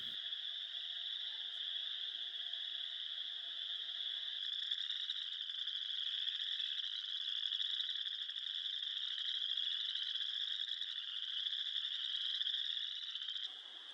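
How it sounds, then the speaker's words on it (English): Frogs croaking along a trail at Moss Lake in Elk Island National Park, Alberta: a dense, continuous, rapid trilling chorus, loud and steady throughout, with a faint low hum early on. "With a little searching, we were able to find one of the croaking frogs."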